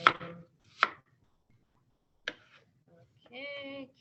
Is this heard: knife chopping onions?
yes